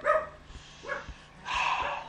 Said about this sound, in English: I don't know what's wrong with that dog. He barks at nothing.